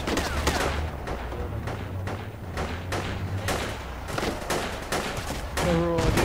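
In Project Reality, an infantry firefight crackles with repeated gunshots and heavier thuds. Some rounds land close and sharp, others sound farther off, all scattered irregularly over a rumbling battlefield background.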